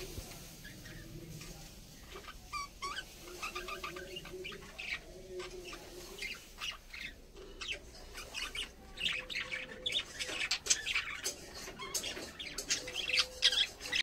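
Small birds at a nest, a white one among them, giving scattered squawks and chirps that grow busier and louder toward the end, with soft rustling and no speech.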